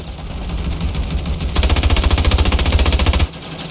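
An FG 42 World War II automatic rifle fires in the Ravenfield video game: a loud, continuous burst of rapid shots runs for nearly two seconds midway, over steady battle background noise.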